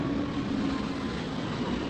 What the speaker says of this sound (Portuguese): Avião passando.